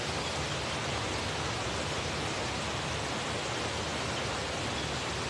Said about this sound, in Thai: ยังครับได้ยินเสียงน้ำตกดังกว่าเสียงอาจารย์